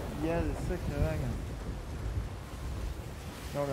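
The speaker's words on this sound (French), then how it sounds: "Il y a des sacrées vagues." Big waves in Sea of Thieves make a low, rushing, windy rumble, with someone talking over it at the start and again at the end.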